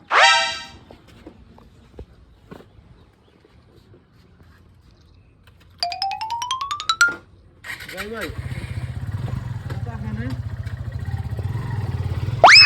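After a quiet stretch, a horn honks and a motorcycle engine starts up, then runs steadily at close range as it rides off, with voices nearby.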